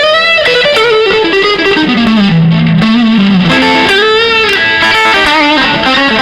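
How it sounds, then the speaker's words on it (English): Electric guitar played through a Keeley Katana clean boost into a distorted amp, a loud sustained lead line with sliding, bending notes and a thick gritty overdriven tone. "this isn't a distortion, this is just a boost. It's a Keeley Katana clean boost"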